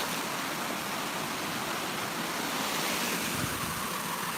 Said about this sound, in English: we've actually got another little waterfall here